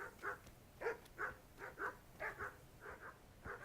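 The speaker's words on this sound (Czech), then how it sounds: "Jo, tak si štěkej." A dog in Kingdom Come: Deliverance barking repeatedly at a steady rhythm, about ten moderate-distance woofs, fairly faint against a quiet background.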